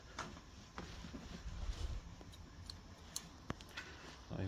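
Scissors snip through a piece of rubber tubing, cut to make a gasket for a Mercedes S-Class oil cap: a few faint, sharp clicks and snips over quiet background noise.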